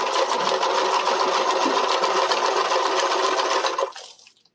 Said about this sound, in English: So I can start sewing.